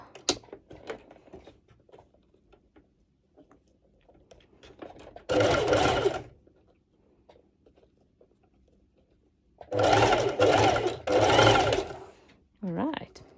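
Domestic sewing machine stitching a bikini top, with three close bursts of rapid mechanical stitching, a short one then two longer runs, separated by quiet handling noises and a person talking.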